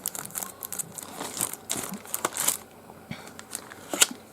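A plastic bag stuffed into a teleprompter package crinkles and rustles close by as it is pulled out and handled, in an irregular run of crackles and soft crunches.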